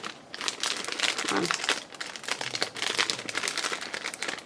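Crinkly Christmas paper craft pieces from Hobby Lobby rustle and crackle as they are handled up close, with steady crumpling sounds throughout and a brief spoken phrase partway through.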